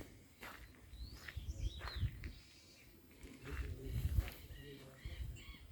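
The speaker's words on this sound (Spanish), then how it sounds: "Se escuchan los pájaros para allá abajo." Birds call faintly in the distance over a rural field, with a few thin, brief chirps rising above nearby footsteps and rustling.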